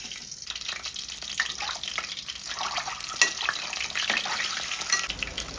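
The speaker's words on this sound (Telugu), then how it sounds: "ఇప్పుడు గుడ్లు వేయించుకుందాం. కోడిగుడ్లు వేయించుకుందాం." Eggs fry in hot oil inside a cooker with a close, steady sizzle and crackle, punctuated by occasional spoon clinks and sharper spits, no voices.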